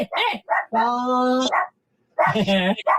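Several dogs barking and yipping in short, loud, close bursts, with a pause partway through.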